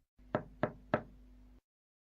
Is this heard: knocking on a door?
yes